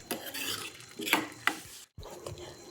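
Carrot halwa stirred in a metal kadai with cardamom powder added, a spoon scraping and clinking repeatedly against the pan in uneven strokes, close and clear, with a brief silent gap near the end.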